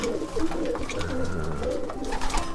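Pigeons cooing close by in a loft, with soft overlapping low coos repeating throughout alone.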